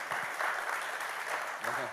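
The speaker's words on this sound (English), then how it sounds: "let's give Don and his team a round of applause for putting it together" A conference crowd at Amsterdam Fintech Week applauds on the main stage. The clapping is steady and dense throughout, with voices mixed underneath.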